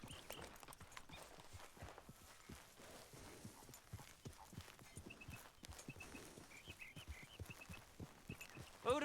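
Steady clip-clopping of horse hooves at a walking pace in the video game Red Dead Redemption II, close and moderately loud, with faint chirps in the background.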